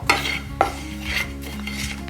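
Little millet flakes being dry roasted in a pan give a soft, steady rustle with light scrapes and taps from a stirring spoon, close by and without speech.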